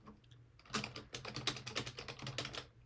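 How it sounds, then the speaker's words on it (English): Rapid typing on a computer keyboard during a typing race, with dense, irregular clicking keystrokes close up and no talk. "let's say you're typing on typeracer.com"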